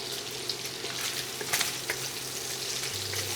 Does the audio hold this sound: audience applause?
no